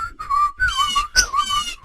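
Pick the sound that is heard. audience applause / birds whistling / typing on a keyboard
birds whistling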